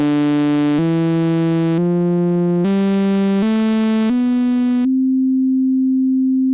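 A buzzy synthesizer oscillator sync tone in VCV Rack steps upward through six sustained notes, then settles into a single plain, smooth, sine-like tone held steadily.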